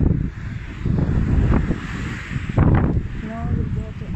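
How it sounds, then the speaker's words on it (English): Strong wind blowing across an outdoor microphone makes a steady, loud low rumble with gusty swells, while a person talks over it. "The wind very strong, guys."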